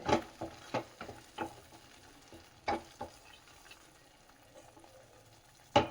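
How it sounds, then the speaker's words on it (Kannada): Onion chutney bubbling and simmering in a pan, a quiet low sizzle broken by several sharp clinks and stirring scrapes spread across the moment, with no talking. "ನೋಡಿ, ಈಗ ಕುದೀತಾ ಇದೆ"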